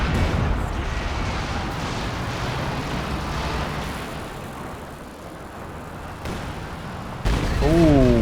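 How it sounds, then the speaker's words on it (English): Walking Stuka rocket artillery strikes in Company of Heroes 2 land as a burst of heavy, rumbling explosions, with more blasts booming through the battle noise near the end under a commentator's voice. "It was a devastating first walking Stuka."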